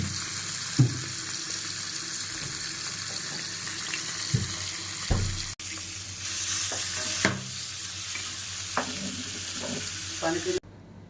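Dried salted mackerel (bangda) frying in a kadhai, a steady close sizzle with occasional scraping stirs and soft clinks of a spatula, no voices.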